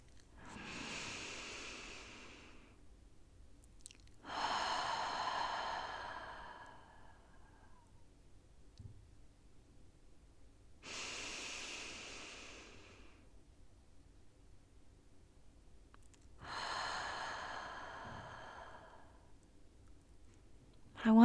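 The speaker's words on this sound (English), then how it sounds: "we're going to start by just taking some nice, deep, centering breaths." Deep, slow centering breaths during a guided meditation, four long airy inhales and exhales in a calm rhythm, heard close and alone with quiet pauses between them.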